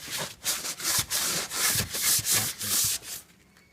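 A wipe scrubs grease off a microwave vent: rhythmic, close rubbing strokes, about eight bursts of scratchy friction with short gaps between them, loud and alone.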